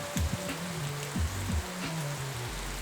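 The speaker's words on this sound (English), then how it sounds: "it winds up being a friggin' rainy day" Steady rain falling on a day meant for spray-painting a buggy hood: a dense, even hiss of drops with no talk, and low, intermittent rumbling swells underneath.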